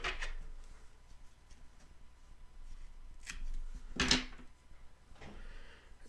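Scissors snip through a small bunch of dyed green deer hair at a fly-tying bench, a few quiet, sharp clicks with one clearer cut near the middle and soft handling noise around it.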